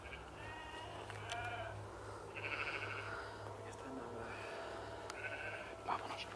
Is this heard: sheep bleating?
yes